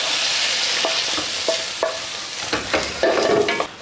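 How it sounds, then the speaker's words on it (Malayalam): Grilled chicken pieces are stirred into a butter chicken gravy, giving a steady sizzle with repeated scraping stir strokes that get busier toward the end. The cooking is close, and no one talks. "അപ്പോൾ അത് നമ്മൾ ഈ ഗ്രേവിയിലേക്ക് ഇടുകയാണ്"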